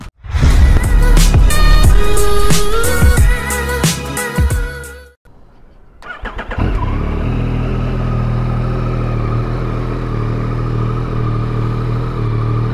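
A Yamaha XSR 900 motorcycle is loud up close, with its engine revving hard and clattering for about five seconds before a brief near-silence. It then settles into a steady, rumbling idle.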